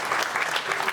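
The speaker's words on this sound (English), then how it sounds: "Clap it up for John J." An audience claps steadily throughout at a comedy roast, a dense wash of applause from a crowd welcoming the host to the stage.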